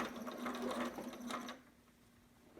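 A sewing machine stitches a newborn romper with a fast, close mechanical whir and a steady hum. It runs for about a second and a half, then stops, leaving quiet room noise.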